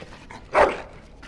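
A dog in the video game Dragon Age Origins gives a single short bark or yelp up close against a low background ambience.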